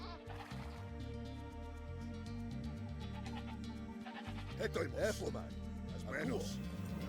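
Goats bleat several times over a looping Age of Empires 2 soundtrack, the calls wavering and close, with a voice speaking nearby.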